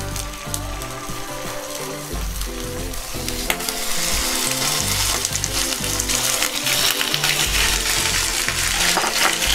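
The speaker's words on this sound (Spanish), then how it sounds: "Cuando el aceite esté bien caliente, empezamos a marcar los filetes." Swordfish fillets sear in very hot oil in a pan, giving a loud, steady sizzle with crackling spits and pops that grows stronger partway through, with no talking.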